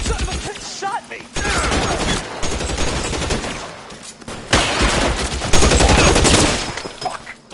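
Heavy, continuous gunfire from a 1940s Los Angeles shootout in L.A. Noire, loud and close, with rapid bursts and overlapping shots filling the whole stretch and brief shouted voices mixed in.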